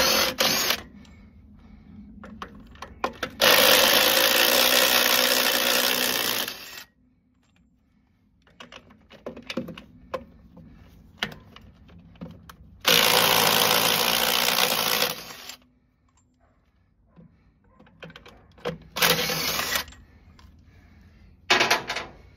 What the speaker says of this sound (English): I'm going to use a DeWalt with socket